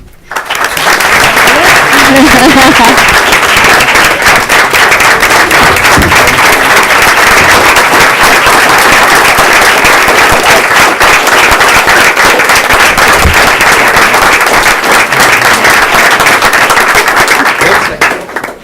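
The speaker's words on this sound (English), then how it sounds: "You have a cheering section." Loud, sustained applause and cheering from a crowd at a school board meeting, dense rapid clapping continuing steadily for many seconds with voices mixed in.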